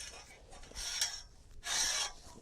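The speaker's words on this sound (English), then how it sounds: "we're going to take our band clamps and slide them over the bow" Metal band clamps slide along the steel bow of a high tunnel frame, giving two bursts of bright scraping rasp, one short and one longer, close and fairly loud with no voices.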